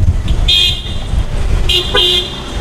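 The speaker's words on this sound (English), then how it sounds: "so loud because everyone honks all the time." Two short, high car horn toots ring out over rumbling street traffic in Santiago, Dominican Republic, close by and sharp.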